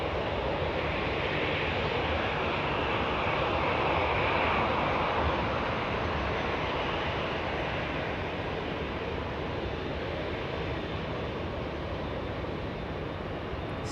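An Alaska Airlines airliner passes at Los Angeles International Airport with a continuous, moderately loud jet-engine roar that holds steady and fades only slightly, with no voices over it.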